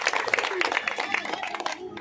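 A church congregation claps in loud, rapid applause, many hands in a dense, rippling patter close by, with voices speaking over it.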